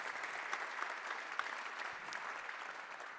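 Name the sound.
applause for a performance at a ceremony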